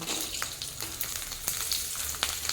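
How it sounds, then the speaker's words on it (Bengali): Chopped garlic sizzles over a low flame in leftover oil in a wok (kadai), a steady close frying hiss with a few soft clicks of stirring. "কড়াইয়ের মধ্যে যে তেলটা বেঁচে আছে, এখন প্রথমেই আমি ভেজে নেব রসুন।"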